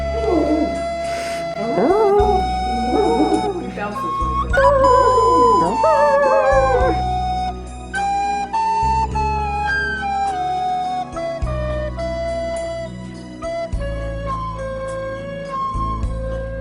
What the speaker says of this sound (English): you get a couple of clips of my aunt's dog